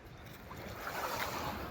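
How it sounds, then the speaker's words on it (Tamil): Strong wind blows across a sea shore where fishing boats sit idle, a broad rushing roar with faint surf, steady and moderately loud with no voices. "பயங்கர காத்து அடிக்குதுங்க, காத்து ஓவர்"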